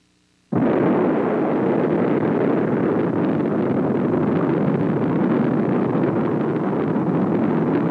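An atomic bomb test detonation of a device raised on a tower erupts suddenly into a loud, sustained roar that fills the rest of the stretch without letup, with no voices.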